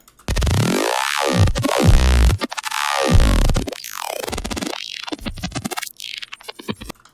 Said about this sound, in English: Here I have a growly sound.